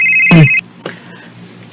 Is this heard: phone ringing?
yes